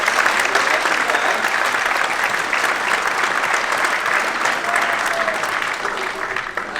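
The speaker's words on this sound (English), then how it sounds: "how about a round of applause for all those senior students" An audience at a school band concert gives a long, steady round of applause, dense and fairly loud from start to finish, tapering slightly at the very end with no speech over it.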